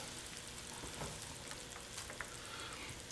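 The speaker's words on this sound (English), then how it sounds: "we're going to sweat these onions a little bit" Onions sweating in a pan for chili give a steady, soft sizzle with faint crackles and small pops throughout, close by, with no talking.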